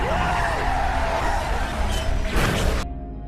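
A car in a horror film, flipped over by a landmine, skids and scrapes loudly with a rushing crash near the end, then cuts off abruptly.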